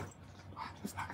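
A Boston Terrier whimpers and fusses indoors with soft, high whining yips, faint and close, over a steady background hiss.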